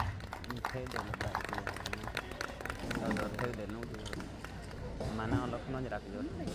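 Applause and crowd clapping greet an award recipient coming onto the stage at the Dang Ratna award ceremony in Saputara, a dense, steady burst of hands lasting throughout with scattered voices mixed in.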